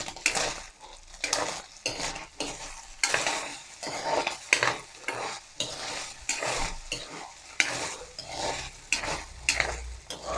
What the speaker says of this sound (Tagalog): Ayan, halu-haluin lang natin guys